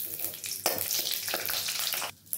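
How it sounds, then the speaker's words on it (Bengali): Bay leaf and torn dried red chili hitting hot oil in a heated kadai, a bright crackling sizzle with bursts and a brief dip near the end. "কড়াটা গরম হয়ে গেছে, যাক গরম হোক। চলো মোটামুটি গরম হয়ে গেছে, দিয়ে দেবো তেজপাতা, একটা শুকনো লঙ্কা ছিঁড়ে।"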